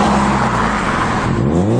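Subaru Impreza WRX STI engine revving hard to the rev limiter, a loud, continuous close-up roar with rising pitch and a rough, bouncing edge at the limit, heard without any talk.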